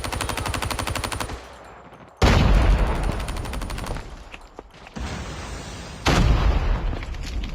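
Loud, sustained machine-gun fire from a powerful weapon in the video game Golf Duty, arriving in several rapid bursts with short gaps between them.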